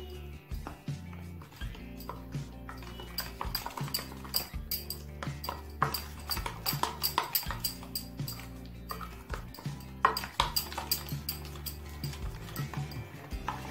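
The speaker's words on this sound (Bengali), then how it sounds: "এবার এটা খুব ভালোভাবে মিশিয়ে নেব" A spoon stirring egg-recipe ingredients with mustard oil in a bowl, a steady run of quick clinks and scrapes against the bowl, close and fairly quiet, with no talking.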